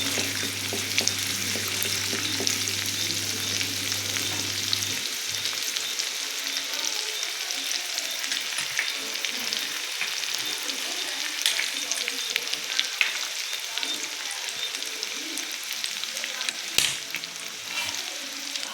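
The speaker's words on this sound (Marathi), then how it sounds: "लसूण आधी भाजून घेऊया।" Garlic frying in a pan, a steady dense sizzle and crackle lasting throughout, close and fairly loud, with occasional stirring scrapes and no talk.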